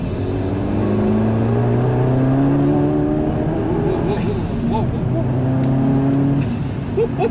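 A modified Ford Focus RS Mk1 with a decat steel manifold, 70 mm exhaust and racing map, making 280 hp, revs loudly with rising and falling engine tones close by while someone talks over it.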